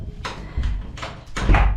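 A door is pushed shut inside a home, giving a few short bumps and a soft closing thud, close by with no talk over it.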